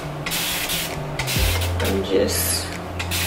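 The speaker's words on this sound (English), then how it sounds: "just kind of going in with my spray bottle" A handheld spray bottle mists water onto thick Type 4 coily hair in short repeated bursts of close hiss, with a voice speaking briefly in between.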